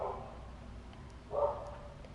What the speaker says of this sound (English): terribly sorry about the dog barking outside.